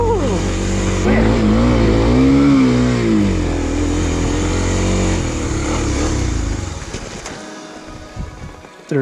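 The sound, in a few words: Kawasaki KLX250 dual-sport motorcycle engine revving on trail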